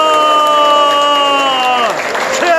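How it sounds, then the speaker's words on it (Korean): A crowd at a special lecture event lets out a loud, sustained cheer that holds steady and then drops away, with scattered noise and a little clapping as it trails off. "뜨겁게 한번 박수 한번 주십시오."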